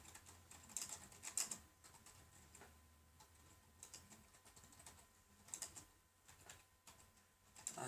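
Keystrokes on a computer keyboard as a title is typed into Windows Live Movie Maker, quiet irregular taps in short bursts, with clusters near the start and again toward the end, no talking.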